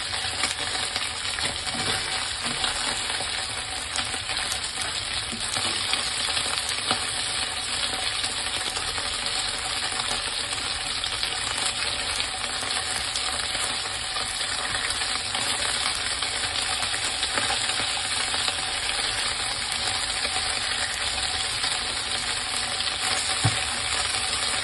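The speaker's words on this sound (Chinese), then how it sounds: "大约每边咧系煎佢两分钟嘅啫" Pork ribs searing in a hot wok for sweet vinegar ribs, a steady close sizzle holding evenly throughout, with a few faint clinks and no voices.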